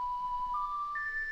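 Ocarina notes from a Zelda video game playing Zelda's Lullaby: a few clear, pure sustained tones that step from a lower pitch to a higher one over quiet background.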